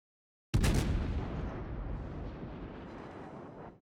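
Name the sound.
naval guns firing in World of Warships video game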